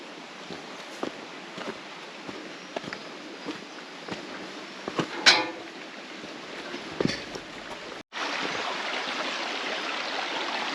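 Indian Joe Creek in Sunol Wilderness flows and trickles steadily at a moderate distance, with a few small splashes, then a louder rush of water takes over.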